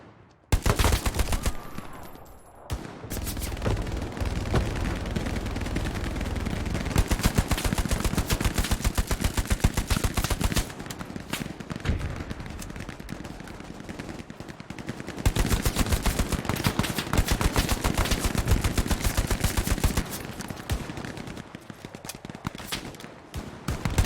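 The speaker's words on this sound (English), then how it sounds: "This German automatic rifle holds 30 rounds in a mag, is fairly accurate, and packs a pretty good punch." An STG-44 German automatic rifle fires in the video game Hell Let Loose: dense, loud bursts of rapid automatic gunfire run almost continuously, with brief gaps between strings of shots.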